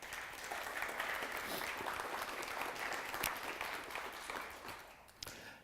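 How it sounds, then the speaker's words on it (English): An audience at a creative workflow talk breaks into steady applause that holds through the clip, a dense wash of clapping that trails off near the end. "can you give her a round of applause, please?"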